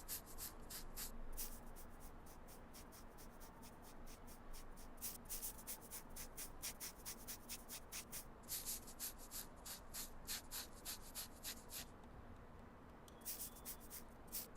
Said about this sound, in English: Sandpaper time.